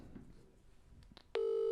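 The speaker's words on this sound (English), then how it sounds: "Let's call them again." A telephone dialing out to a caller: faint background noise and a few soft clicks, then a loud, steady dial tone for about half a second at the end.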